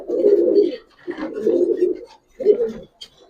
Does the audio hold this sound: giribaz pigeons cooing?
yes